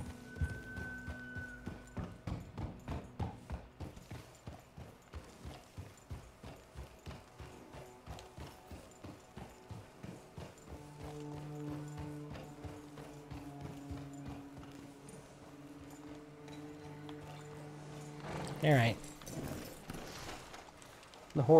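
Horse hooves clip-clop at a steady walking rhythm in Red Dead Redemption 2, slowing and fading midway while game music and a voice come in underneath.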